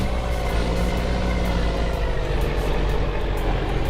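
A Farming Simulator 25 truck on the Dakota map runs with a constant loud engine rumble, near and even, idling or cruising without change and with no voices.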